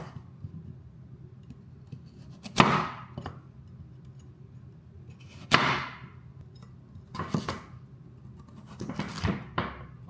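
Vegetables for a lamb shank and mash dish are cut in half with a knife on a chopping board: four sharp, close chops land a few seconds apart over a quiet background.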